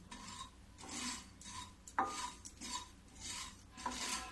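Poppy seeds are roasted in a pan on low gas and stirred steadily with a spoon. Soft, rhythmic scraping and rasping strokes repeat at close range, with one light metallic clink partway through.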